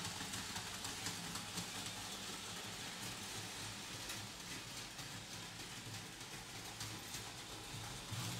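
A steady, quiet rumbling clatter runs throughout as a model train with a luggage van rolls continuously along its track, faint and even with no voices.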